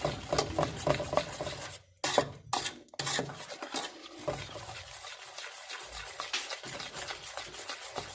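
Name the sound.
syrup boiling and being stirred in pot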